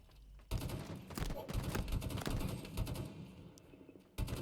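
Dense, continuous rapid-fire gunfire from a Halo video game match, bursts overlapping in a loud barrage that cuts off abruptly near the end.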